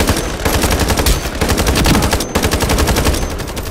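Loud, rapid automatic gunfire from the online shooter game Ironsight, dense bursts of close machine-gun shots running almost continuously with a brief break midway, no speech over it.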